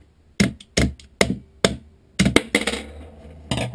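Screwdriver strikes against an airsoft replica: a series of sharp, close knocks and taps in an irregular rhythm, about ten hits, the later ones tighter together with some rattle between them.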